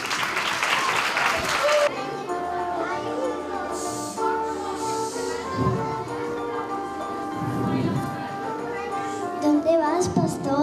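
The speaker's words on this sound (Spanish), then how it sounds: "Un fuerte aplauso." An audience at a school Christmas festival applauds loudly for a few seconds, then the clapping gives way to children speaking and a harmonic tone-like backdrop, with scattered voices and brief bursts of noise continuing.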